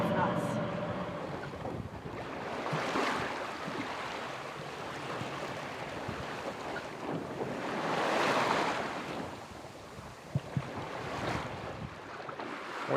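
Waves on the North Sea heard aboard a sailing boat in light conditions: continuous wash and rush of water with swelling surges and steady wind noise, no talking.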